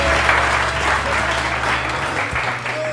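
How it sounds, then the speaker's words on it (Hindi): A studio audience on a Pakistani morning television show claps for a guest, an even, continuous roomful of applause that stays loud throughout, with faint voices and a music tone underneath. "बहुत सारी तालियां अरूबा के लिए बहुत सारी तालियां"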